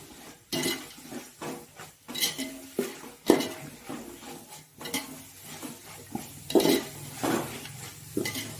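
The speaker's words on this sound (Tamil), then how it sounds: "இஞ்சி பூண்டு நல்லா வதங்கட்டும்" Ginger and garlic sautéing in a pan for vegetable pulao, with a spoon repeatedly scraping and clanking against the metal pan over a faint sizzle, close and irregular, with no talking.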